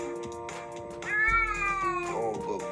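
Overweight cat on a treadmill meows once, a long, loud, drawn-out wavering meow, near and alone, with faint motor and background noise before it.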